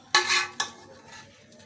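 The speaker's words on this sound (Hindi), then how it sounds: "अब हम इसको मिक्स कर देते हैं सब चीज़ों को पहले" A spoon stirs spices and sauce together in a bowl before vegetables go in, giving two short scraping bursts followed by a faint tail, close and quiet, with no talking.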